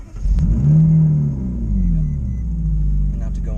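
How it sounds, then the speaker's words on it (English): A car engine cranks and catches, then revs up and settles into a steady low rumble, close and loud, with people talking over it. "Hold foot on the brake, engine start."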